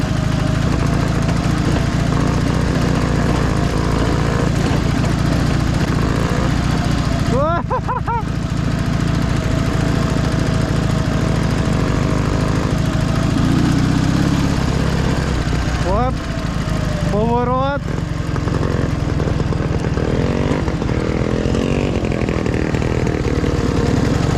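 A Dnepr MT 11 and a Minsk 125 motorcycle ride through deep mud, their engines droning loudly and continuously with a couple of rising revs as the wheels churn and strain.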